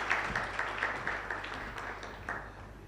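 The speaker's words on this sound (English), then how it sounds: "A round of applause as he comes." Light audience applause at a business panel event as a panelist walks on stage, a modest scattering of claps over a low room hum, fairly quiet and continuous.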